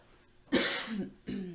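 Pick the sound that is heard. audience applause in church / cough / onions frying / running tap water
cough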